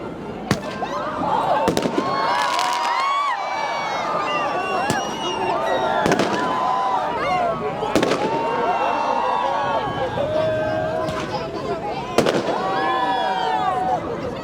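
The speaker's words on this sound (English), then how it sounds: "People started setting off fireworks in the middle of the crowd" Fireworks set off in the middle of a crowd on London's New Year crack and bang repeatedly, sharp pops arriving every second or two over constant cheering and chatter.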